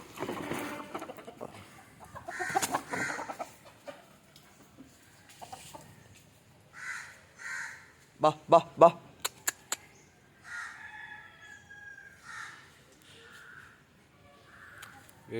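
Country chickens cluck in the morning in scattered, intermittent bursts. A person calls to them with short repeated sounds, and a few sharper squawks stand out midway.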